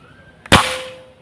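A single rifle shot fired during an accuracy test, one sharp loud crack with a short decaying tail, set against quiet background hum.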